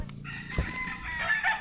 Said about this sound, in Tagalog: Grabe, ang daming manok oh.